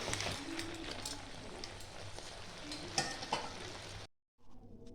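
Hot oil sizzles and crackles steadily as tempering is poured into a pan of cabbage chorchori, then briefly cuts out before the frying noise resumes.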